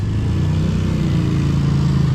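Motorcycle engine on a trail, a loud, close, steady low throbbing idle with an even rhythmic pulse and no speech over it.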